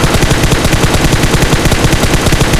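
Loud, rapid automatic gunfire rattles in the PUBG video game, a continuous burst of closely spaced shots with no pause for the whole stretch.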